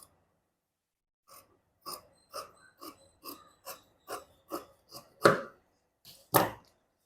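Scissors cut blouse fabric along a marked curve: about ten crisp, close snips at a steady pace after a quiet start, with the last two louder, and no talking.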